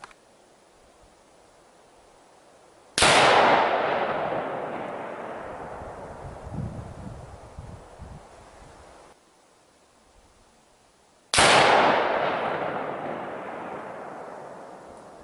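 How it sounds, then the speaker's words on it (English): Two loud rifle shots from a Savage Axis .30-06 ring out outdoors roughly eight seconds apart, each a sharp crack followed by a long rolling echo that fades slowly across open ground. "I'm going to shoot that Savage Axis 30-06 one more time."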